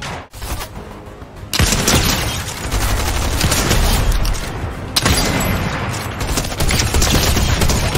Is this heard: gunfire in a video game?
yes